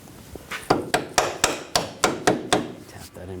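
A leveling sensor bracket being tapped into place on a 2000-2006 BMW X5 3.0L L6, about nine sharp, evenly spaced hammer taps close by with no talk over them.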